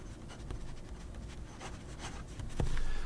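An Asvine P36 fountain pen with a Bach broad nib scratches across paper in soft, continuous strokes. The scratching is close and quiet and ends with a brief tap.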